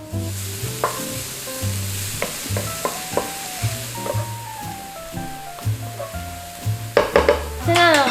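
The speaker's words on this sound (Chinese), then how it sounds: "我们先把老姜、香菇跟杏鲍菇把它煸到金黄。" Ginger, shiitake and king oyster mushrooms are stir-fried in vegetable oil in a pan, a close sizzle under repeated clinks and scrapes of the utensil against the pan, with background music throughout.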